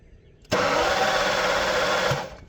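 A BMW E38 750iL V12, a moldy parts car, cranks over after a faint lead-in. The starter and engine whir loud and steady for about one and a half seconds, then cut off.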